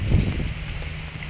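Strong wind gusting across a rice field at harvest time, a steady low roar of wind buffeting the microphone throughout, close and continuous with no talk.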